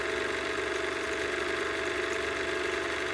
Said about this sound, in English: My machine isn't fancy enough to have an automatic bobbin winder, so I gotta do this every time.